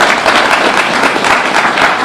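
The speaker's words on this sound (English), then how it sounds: "Let us give her a tremendous round of applause" Sustained audience applause at a Prime Minister's community event in Manchester, dense and even clapping from a large crowd filling the whole stretch without pause.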